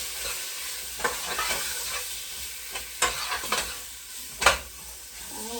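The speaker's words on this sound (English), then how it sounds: "We're just going to stir this up. Get some color on it." Food being stirred and browned in a pan, with a steady sizzle of frying under repeated scraping strokes of a utensil, a few louder scrapes standing out, close and without talk.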